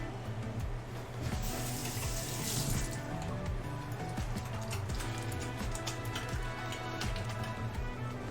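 Water runs steadily from a tap while hands are washed beneath it, a constant hiss and splash with small shifts as the hands move through the stream, heard close and with no one speaking.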